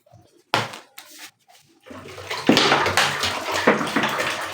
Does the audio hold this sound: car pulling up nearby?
no